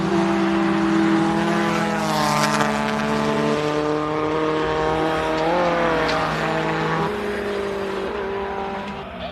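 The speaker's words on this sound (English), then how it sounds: "Theo Mark in the VW Formula V." A VW Formula V race car climbing a hillclimb course, its engine note rising and shifting through gears close by and loud, with harmonic whine sweeping up and down and a fade near the end.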